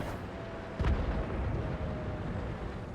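A single heavy tank cannon shot fires into a Covenanter tank during a tank video game match, coming as a sharp boom partway through and sitting over steady engine rumble and battle ambience.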